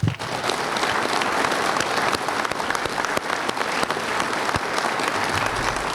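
A crowd breaks into loud, sustained applause, steady clapping filling the room for several seconds.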